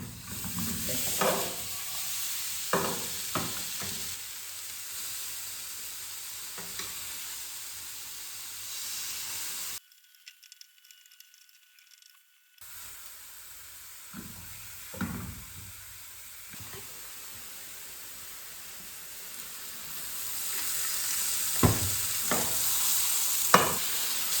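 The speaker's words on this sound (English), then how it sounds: "And then I'm gonna fry the nectarine." Nectarine slices sizzle steadily in olive oil in a hot pan, a close, continuous frying hiss broken by occasional stirring scrapes, with a brief dead-quiet gap partway through.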